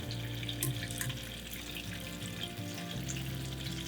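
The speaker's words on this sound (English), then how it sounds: "you will have to fry this on high flame only" Potato cheese nuggets frying over a high flame, a steady broad hiss and crackle of hot oil that runs unbroken throughout at moderate loudness, with no voices.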